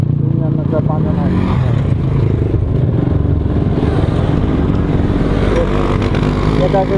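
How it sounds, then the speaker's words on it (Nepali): Motorbikes ridden by local riders rumble and rev nearby on a rural road, a continuous loud engine drone with clattering, under steady talk. "यता चाहिँ लोकल राइडरहरू यस्तो पानी गरेर बाइक चलाइरहेछन्"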